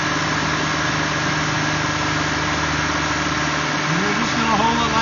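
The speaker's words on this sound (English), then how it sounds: "I increase the RPM because it started to stumble a little bit." A car engine runs steadily at raised RPM during an at-home intake cleaning, with a loud, close, continuous drone that holds even and swells slightly near the end.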